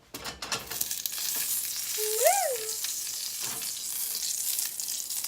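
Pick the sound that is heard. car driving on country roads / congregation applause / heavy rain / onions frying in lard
onions frying in lard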